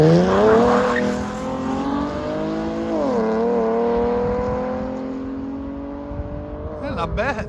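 A Chevy Camaro with a 3.6L V6 and true dual straight-pipe exhaust revs up, the raspy engine note climbing, dipping and holding at a steady pitch before a short final blip, loud and close.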